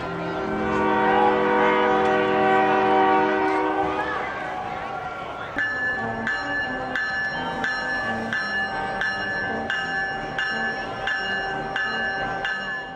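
An Indiana Rail Road train horn sounds loudly for several seconds, then a bell clangs in a steady repeating rhythm as the train pulls in nearby.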